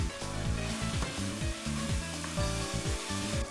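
Meat browning in a pan with garlic, onion and tomato sofrito, for a turkey stew, sizzles and fries steadily and close, with a spoon scraping and stirring through it.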